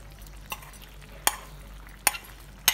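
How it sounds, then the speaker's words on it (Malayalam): Chopped mango pieces coated in turmeric and chili powder go into a simmering coconut milk curry, giving a faint bubbling sizzle broken by four sharp clinks and taps of a utensil against the pot. "ഇനി ഇതിനകത്തേക്ക് നമ്മൾ അരിഞ്ഞ് മഞ്ഞൾപ്പൊടിയും മുളക് പൊടിയും പുരട്ടി വെച്ചിരിക്കുന്ന മാങ്ങ"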